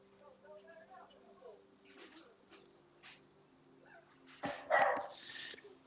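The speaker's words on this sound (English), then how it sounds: "dogs are going nuts" Dogs barking in a house during trick-or-treating, a few sharp distant barks scattered over faint background noise, with a louder burst near the end.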